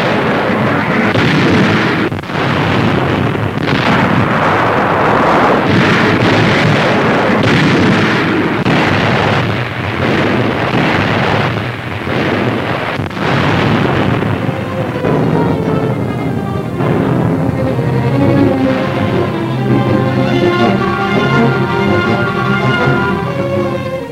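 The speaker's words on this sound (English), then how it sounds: "Naval guns cover the landing." Naval guns pound the shore during the World War II Allied landing on Sicily, a dense, continuous barrage of booming artillery blasts with repeated loud bursts, later giving way to a rumbling, tonal wash.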